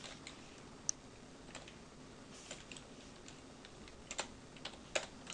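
Keys clatter on a computer keyboard as a terminal command is typed on a Lubuntu/Ubuntu machine, with soft, close, irregular clicks and a few sharper taps over quiet room tone.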